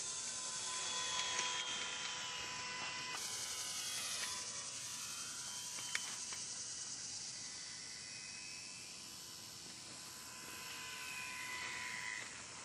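The small electric motor of a Parkzone Ultra Micro P51 RC airplane whines high and thin as the plane flies and lands in a cul-de-sac, shifting pitch with throttle changes, with one brief click partway through.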